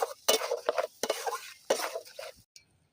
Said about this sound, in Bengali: টমেটো বাটাটা দিয়ে দিতে হবে আস্তে আস্তে নাড়াচাড়া করতে হবে